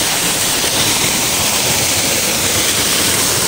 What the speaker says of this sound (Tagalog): Oh, ang ganda ng falls niya.